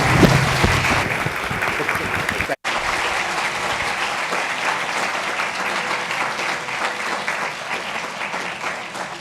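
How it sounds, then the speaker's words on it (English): Audience applause fills a conference hall after a talk at the Seeds of Change 2017 event, steady and sustained, broken by a brief cut before continuing. "please join me in giving another round of applause to Jeff Raikes."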